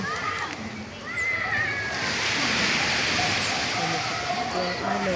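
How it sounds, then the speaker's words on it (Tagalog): Waves wash and hiss onto a beach, building into a broad rushing swell, while people talk nearby. "Ito yung alon."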